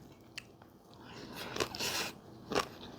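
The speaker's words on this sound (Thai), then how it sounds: "ไหนลองกินกับมะม่วงสิมะม่วงเบา กรอบมากแช่น้ำเย็นมา" Crunchy bites into chilled, crisp unripe mango eaten with fermented fish chili paste, a few close sharp crunches followed by moist chewing.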